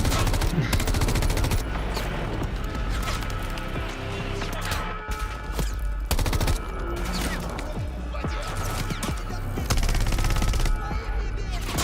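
Rapid gunfire in the Call of Duty video game, dense bursts of automatic shots with loud sharp reports over game music and effects, continuous and close.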